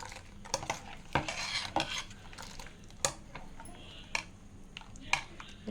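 A spoon stirring Telugu buttermilk curry (majjiga pulusu) in a metal pot, with irregular clinks and scrapes against the pot and soft swishing of liquid between them, close and moderately loud.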